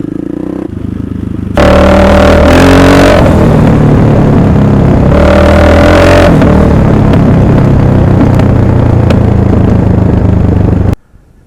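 An old, aggressive Husaberg motorcycle engine revs loud and close, climbing in two sharp bursts over a rough, clattering idle before cutting off abruptly at the end.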